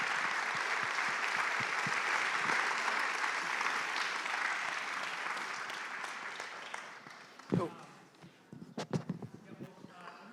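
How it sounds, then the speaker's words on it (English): A lecture audience applauds in a sustained, fairly distant wash of clapping that fades out after several seconds, followed by scattered knocks and shuffling sounds. "Invite another round of applause."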